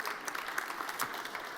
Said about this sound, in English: one big more applause